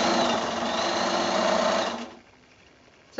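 A sewing machine joins rows of a Clay's Choice quilt block made from 2.5 inch squares. Its steady, close whirr runs for about two seconds, then stops abruptly into near silence.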